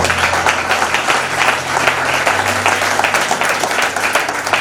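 A church congregation at a convention in Yamoussoukro applauds loudly and steadily, dense clapping filling the whole stretch without a break, with a low sustained hum beneath it.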